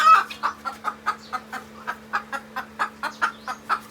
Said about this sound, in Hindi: मुर्गी आई थी तोड़ों के पास, पता नहीं यहाँ पे आके बोल रही है